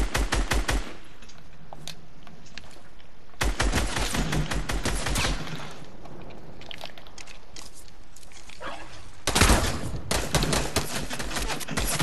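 Assault rifle gunfire in the Fortnite video game: rapid, loud bursts of automatic fire in three clusters, with short pauses in between, and no speech.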